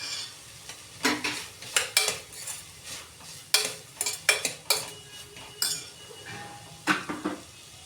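Spoon or spatula scraping and clinking in a pan as cluster beans (gavar) are sautéed, with a steady background sizzle and a string of sharp, irregular metallic stirring strokes close by.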